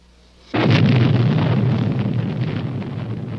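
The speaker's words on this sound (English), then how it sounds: "What you will see here is a simulated atomic explosion." A simulated atomic explosion from an atomic cannon, in a 1954 United States government film, erupts suddenly into a massive, sustained roar that rumbles on loudly for several seconds with a slowly fading, wind-like blast.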